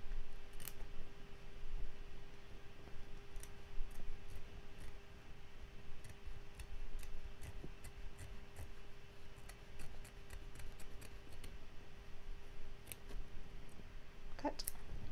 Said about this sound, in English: So I'm going to take my scissors